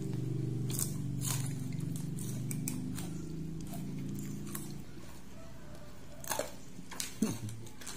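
Biting and chewing a crunchy bakwan vegetable fritter: a few close, crisp crunches and clicks near the end, following a stretch of low background murmur.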